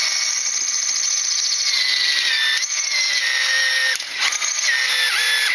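A power drill with a bit cutting into metal for a gas grill heat shield whines steadily at close range, a high sustained tone that drifts slowly downward as the bit bites, with a brief dip near the end.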